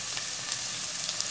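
Carrots, pumpkin, potato and parsley stalks go into a hot pot for a vegetable broth, giving a steady, close hiss of sizzling with faint stirring crackles, no voices.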